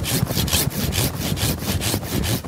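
A Japanese pull saw cuts through a bonsai tree branch in a garden, close rhythmic rasping strokes about four per second, scratchy and even.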